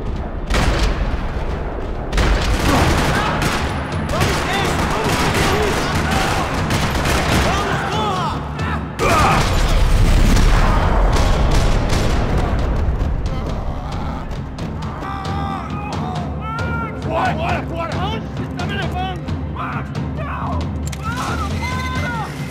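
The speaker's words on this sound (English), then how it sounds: "Another parking lot rattling with gunfire." Dense, sustained gunfire bursts and booms in a parking lot shootout in the video game Max Payne 3, loud and continuous throughout with a game voice briefly speaking partway through.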